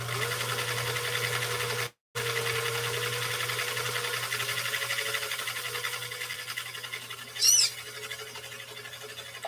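An antique 1955 sewing machine runs a stitch with a soft, steady mechanical hum and a fine rapid patter. It breaks off for a moment, resumes quietly, and a brief bird squawk sounds near the end.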